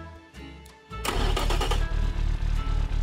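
A turbocharged Toyota 7A-GE engine cranks briefly, then catches and settles into a loud, steady idle with a rhythmic pulsing throb, recorded up close.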